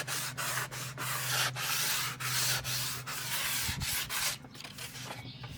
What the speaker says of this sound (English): Afterward, I used the sandpaper to work the edges by hand.